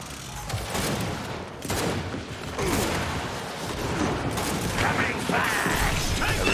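Gears 5 gunfire in a free-for-all match: dense, continuous rattling bursts of shots with mechanical clatter, loud and busy throughout, with a voice faintly underneath.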